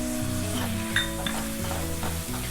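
Ginger sizzles in hot oil over a medium flame for masala paniyaram, a continuous frying hiss with a few clinks and scrapes from stirring, close and moderately loud.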